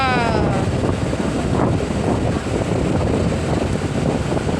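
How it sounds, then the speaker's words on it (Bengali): Strong wind buffeting the microphone on a ferry on a river, a continuous roar with a low engine-like rumble and water noise underneath. "এরকম হাওয়া দিলে ভালো লাগে"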